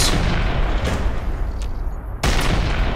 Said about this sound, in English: they are the Operation Anchorage cannons